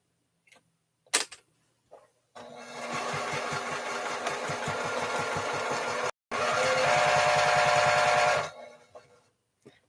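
Sewing machine stitching a quilt, a fast even whirring chatter running in two long bursts separated by a short pause, close and fairly loud, with a few clicks before it starts.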